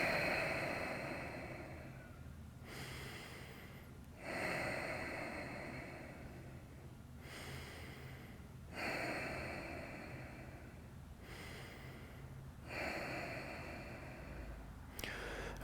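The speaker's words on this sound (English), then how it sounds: "Take 5 more breaths." Slow, deep breaths are drawn during a yoga hip-flexor stretch, each long, airy inhale or exhale rising and fading in a steady cycle of about four seconds, close and unhurried with no talking.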